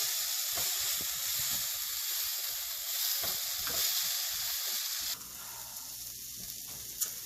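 Tofu bhurji mixed in a frying pan, with a loud, steady hiss of frying and intermittent scraping strokes. The sizzle drops abruptly to a quieter level partway through.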